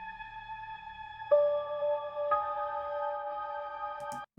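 Dry, unprocessed horror trap beat melody: steady synthesized tones stepping to new pitches twice, brighter and closer than a processed version, ending abruptly.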